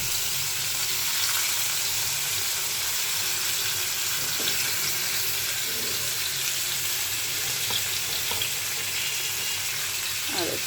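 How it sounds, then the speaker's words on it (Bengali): Pieces of rui fish fry in hot oil in a pan, giving a steady, dense sizzle that holds constant throughout with a few faint clinks and stirring sounds. "এই যে এখন আমি তেলের উপর মাছগুলো ভাজতেছি।"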